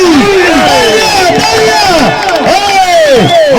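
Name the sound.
crowd clapping and cheering at a wrestling match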